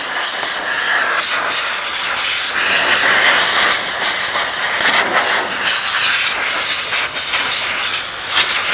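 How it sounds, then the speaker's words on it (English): Compressed air blows a steady, loud hiss across a car battery to clean off corrosion, continuous and close throughout with small fluctuations. "I have some compressed air, so we're just going to"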